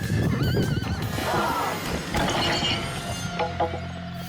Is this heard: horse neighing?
yes